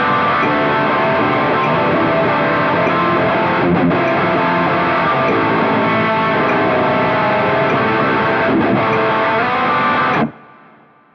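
Heavily distorted electric guitar plays the chorus riff of a song as a dense, continuous wall of chords that runs for about ten seconds, then cuts off into a brief ringing tail, loud and with no voice.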